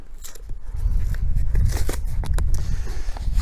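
A resealable Canadian IMP 19 field ration pouch with a zip closure is torn and opened outdoors, producing loud, close crinkling and rustling plastic with sharp rips throughout.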